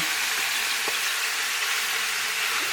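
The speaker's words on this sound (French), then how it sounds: "On va laisser frire la viande jusqu'à qu'elle devienne dorée" Duck leg meat frying with crushed spices in a pan for a Creole duck civet, a steady broadband sizzle running throughout with a few faint stirring knocks, moderately loud and close, no talking.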